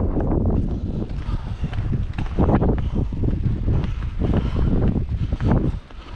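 Steady low wind buffets the microphone at Lybster harbour in Caithness, a continuous gusty rumble that swells and eases without a break.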